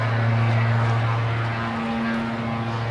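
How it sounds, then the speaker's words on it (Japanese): A helicopter passes low and loud over a golf course near Kumamoto Airport, a steady droning roar with a throbbing rotor tone holding throughout. "ヘリ飛んで、 ヘリ飛んでいきましたね。"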